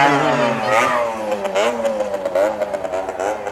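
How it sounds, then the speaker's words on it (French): A motorcycle engine revs hard during a burnout, rising and falling in pitch with rough clattering close by, loud and continuous for the full span without talk. "Ah, moto. Désolé, il a fait un burn,"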